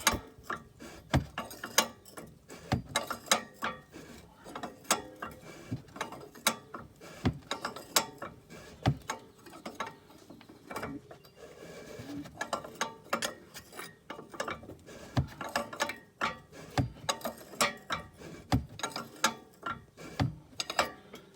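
Raceland coilover height adjuster being turned counterclockwise on a 2016 Honda Civic, with repeated mechanical clicks and ratcheting clanks in a steady rhythm, close and fairly loud throughout, no talking.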